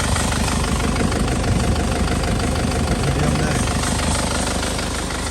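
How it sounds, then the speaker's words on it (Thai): An Isuzu D-Max SLX pickup's engine idles nearby, a loud, steady diesel-like rumble with a rapid even knock and vibration, continuous and unbroken with no one speaking. "รับรองว่าเครื่องตัวนี้ผ่านนะครับ"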